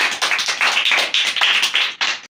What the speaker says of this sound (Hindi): शाबाश, जोरदार तालियां बजाएंगे